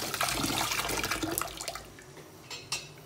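Food is rinsed under a running kitchen tap, with a steady splashing rush of water that fades and thins toward the end and is broken by a few light knocks.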